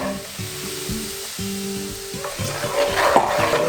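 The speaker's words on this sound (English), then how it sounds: "then we deglaze with some red wine" Cheap Shiraz red wine poured into a hot pan to deglaze it, giving a steady close sizzle and hiss that swells louder toward the end as the liquid hits the hot metal, with no talk.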